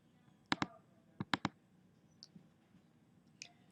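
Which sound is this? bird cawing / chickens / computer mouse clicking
computer mouse clicking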